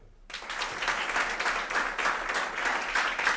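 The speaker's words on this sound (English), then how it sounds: "Give me a clap if you're from abroad." Comedy club audience at a stand-up show claps in a sustained burst of applause, a steady dense patter starting abruptly and holding loud throughout, with no talking over it.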